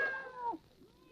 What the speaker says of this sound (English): here comes the kitty cat